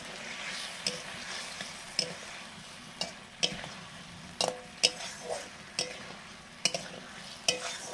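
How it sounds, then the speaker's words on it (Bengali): Fried potatoes tossed into a pan and stirred, a steady low sizzle under repeated scrapes and knocks of a spoon against the pan, close and fairly quiet with no talking. "ভেজে রাখা আলুগুলো দিয়ে দিলাম"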